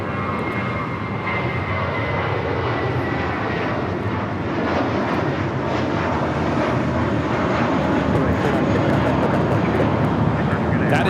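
A Spirit Airlines Airbus A320 takes off at Los Angeles International Airport, its engines a loud, steady roar that swells gradually over several seconds, with a faint voice underneath.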